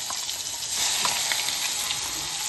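Ground paste of green chilies and garlic hitting hot oil already seasoned with cumin and mustard seeds, giving a steady, loud, broad sizzle with no talking over it.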